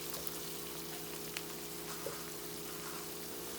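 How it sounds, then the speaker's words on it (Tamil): Ginger garlic paste sizzles steadily in a hot pan for an Indian chicken curry, a soft continuous frying hiss with faint crackles, quiet and close with no voices. "இதோட பச்சை வாசனை போகிற வரைக்கும் நம்ம ஃப்ரை பண்ணிக்கலாம்"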